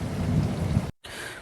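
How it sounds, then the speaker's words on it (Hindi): Heavy storm rain pours down in a dense roar with deep rumbling thunder underneath, cutting briefly to silence before the downpour returns, all at close range with no voices. "बहुत तेज़ बारिश हो रही है"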